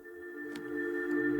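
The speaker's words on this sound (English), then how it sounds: "So typically what I do is just cut out some of the low frequencies in the reverb." A sustained synth pad washed in long reverb, with the low frequencies and low mids pulled down by a low shelf EQ, holds steady steady tones that swell slightly louder toward the end, with no talking.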